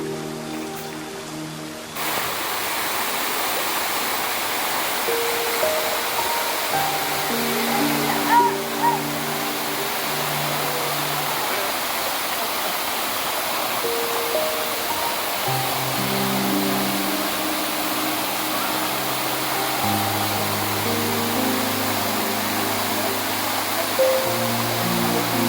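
Babarakanda falls, the tallest waterfall in Sri Lanka, roars as a steady, broad rush of falling water throughout, with faint tones and voices in the background.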